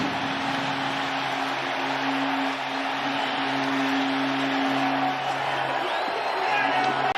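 A packed NFL stadium crowd roars steadily after a New York Jets touchdown, a dense, sustained wall of cheering with whoops rising near the end.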